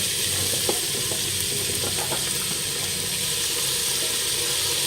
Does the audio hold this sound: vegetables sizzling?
yes